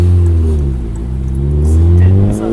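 A dark-tuned Volkswagen Golf 4 engine revs loudly and steadily up close, its deep harmonic drone rising slightly and settling over a couple of seconds with no voices.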